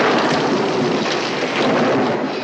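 A nighttime thunderstorm with steady heavy rain pouring down, a continuous dense hiss with a low rolling rumble of thunder beneath it and no voices.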